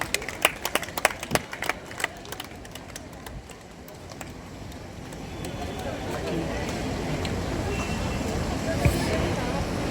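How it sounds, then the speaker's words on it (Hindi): Scattered, sharp hand claps from an audience welcoming the chief guest at a college farewell ceremony for female students come in the first few seconds, then die out into a swelling murmur of crowd chatter. "जोरदार तालियों के साथ हमारे मुख्य अतिथि का स्वागत करें।"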